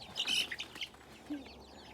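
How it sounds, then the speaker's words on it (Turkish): Chickens cluck faintly in a village garden, giving a few soft, scattered calls against quiet outdoor background noise. "Şu tavuk. tavuk. Çok güzel bir tavuk."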